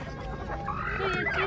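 A chicken clucks close by in a noisy, busy market, with murmuring voices in the background.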